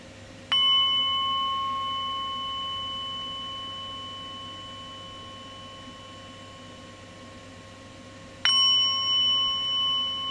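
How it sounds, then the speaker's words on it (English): Meditation bell struck twice, each a clear ringing tone with a long sustained decay; the first rings on for several seconds before the second strike near the end. "So I'll ring the bell and then I'll guide you through just a few of those cycles"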